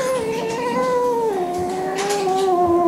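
A loud, close cat meows in a long drawn-out wail that rises and falls, continuing for a few seconds with no voices.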